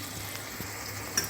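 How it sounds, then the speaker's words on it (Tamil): Sambar bubbles in a pot at a roadside tiffin stall, a soft steady simmer with faint popping and a light sizzle, close and quiet, without anyone talking. "நம்ம இது நல்லா கொதிக்குது"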